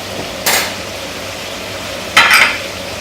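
Rice and sweet paprika fry in a paella pan with a steady close sizzle, broken twice by sharp scraping stirs of a utensil against the pan.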